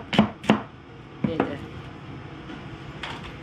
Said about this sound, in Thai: ก็หั่นผักไปเรื่อยๆจ้ะ